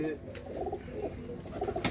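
A Jira pigeon coos in short, soft repeated phrases close by, with a few sharp bright noises, while people talk faintly nearby.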